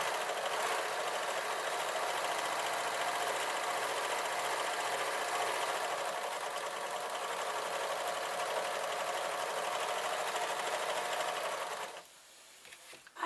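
A sewing machine stitches yoga trousers in one long continuous whirring run, steady and close, before slowing and stopping near the end.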